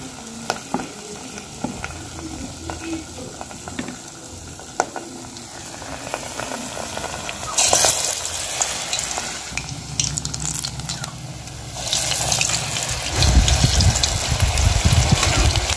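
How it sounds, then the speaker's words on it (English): Arancini rice balls fry in hot oil in an African village kitchen, a continuous close crackling sizzle that swells louder and fuller as more balls drop in, with no voices. "Then I'll go ahead and drop it in the oil."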